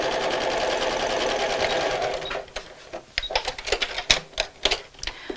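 Sewing machine stitching straight across a fabric Christmas bag seam, a steady close rapid whirr for about two seconds followed by a few short uneven stitching bursts.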